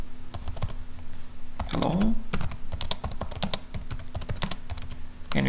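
Keys clattering on a computer keyboard while a short message is typed, quick irregular clicks running throughout with a brief spoken word near the start.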